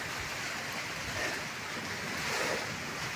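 Strong wind buffets the microphone while waves surge and wash at the shore on a rainy day, a dense, steady roar that swells twice, with no one speaking.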